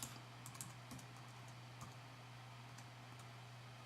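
Light tapping of keys on a computer keyboard, a few quick scattered clicks early on, faint and close over a steady low hum, with no voices.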